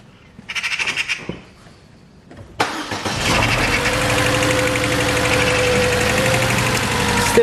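A Mercedes A-Class W169 engine with a misfire, heard up close: a brief cranking burst and a pause, then the engine catches and settles into a loud, steady run for the rest of the clip.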